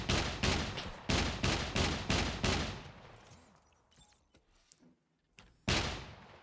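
A mech in the game SCUM firing its gun's second fire mode, a heavy plasma-cannon-style weapon: a rhythmic series of loud booming shots that fade out, a quiet stretch with faint noises, then one more loud blast near the end.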